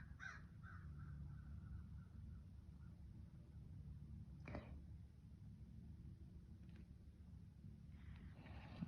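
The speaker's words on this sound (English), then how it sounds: "I got distracted by those crows." Distant crows caw a few times over a low rumbling background, the harsh calls faint and spaced apart, with no talk.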